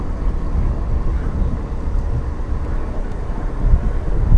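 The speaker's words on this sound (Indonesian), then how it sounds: "Cuma suara sepeda motornya katut." A motorcycle engine drones steadily and fairly loud while riding, a low continuous rumble mixed with road and wind noise, with no clear speech over it.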